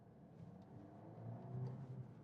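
A 2026 Mercedes CLA with a petrol mild-hybrid engine accelerates onto a road, giving a steady, moderately quiet low engine rumble that builds slightly as it pulls away, heard from inside the cabin.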